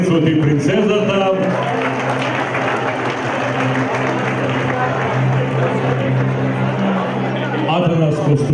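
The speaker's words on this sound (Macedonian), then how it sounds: "Еден аплауз молам за принцот и принцезата." Loud crowd applause at a Maskenbal carnival ball for the carnival prince and princess, with an announcer's voice over amplified music at start and end and sustained clapping in between.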